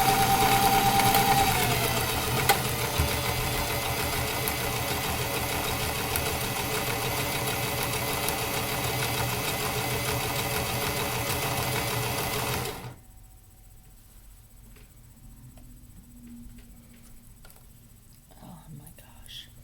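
Regalia sewing machine stitching at a steady fast whir, close and loud, stopping abruptly partway through and leaving a quiet room with faint voice and small handling sounds.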